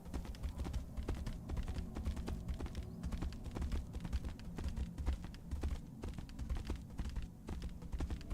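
Horse hooves clip-clopping at a steady rhythmic pace in the video game Tainted Grail: Fall of Avalon, fairly quiet and continuous with no talk over it.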